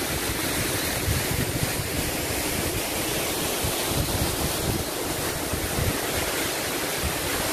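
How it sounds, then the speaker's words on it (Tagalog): Kan-Uman Falls in Bohol roars as a steady, loud broadband rush of falling water, continuous and unbroken with no voices. "Yan ang Kan-Uman Falls sa lugar namin guys."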